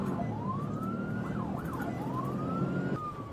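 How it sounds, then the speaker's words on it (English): A wailing police-style siren rising and falling, with a quick yelp in the middle, moderately distant over steady road traffic rumble. "There's a siren."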